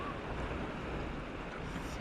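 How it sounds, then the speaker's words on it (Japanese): Waves wash steadily against a small boat during a fishing trip at a remote spot. Wind buffets the microphone, and the broad, continuous surf noise stays close and fairly loud throughout. "波かな。"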